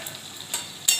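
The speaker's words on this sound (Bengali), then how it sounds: "এবার ভালো করে কষাতে হবে।" Curry sautéing in fish oil with ginger, a brief close sizzle broken by a couple of quick scraping stirs, the last one louder, with nobody speaking.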